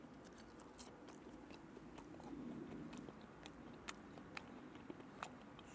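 Someone bites into and chews crunchy bread-coated, triple-dipped fried tromboncino squash, giving faint close crisp crunches scattered through a quiet room with no talk.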